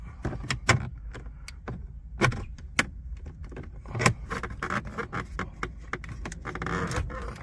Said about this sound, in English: use your panel remover tool, and we're going to remove this plastic.